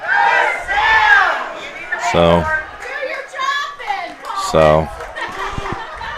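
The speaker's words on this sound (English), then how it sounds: "PA announcers getting heckled by the crowd." Crowd of parents in the stands shouting and jeering at a varsity high school football game, loud overlapping yells and cheers, with a clipped voice nearby and a low buzzing tone twice.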